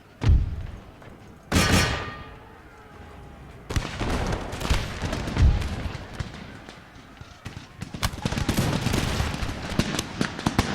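Troops firing musket volleys in Empire: Total War, with sharp booming reports at the start followed by a dense, continuous crackle of gunfire and thuds that builds and stays loud throughout.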